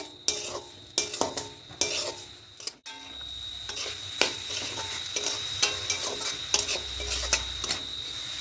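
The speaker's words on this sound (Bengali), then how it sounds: "এইভাবে করে অনবরত নাড়তে হবে" A spoon continuously stirs a white coconut mixture for narkel naru in a pan, giving rapid rhythmic scraping strokes with soft frying hiss underneath, close and with no voices.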